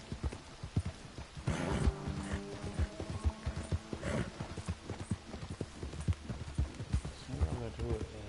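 Horse hooves clip-clop in a Wild West video game, a steady rhythmic trotting with occasional mechanical clicks and a brief whinny, heard close and prominent while a person talks over it.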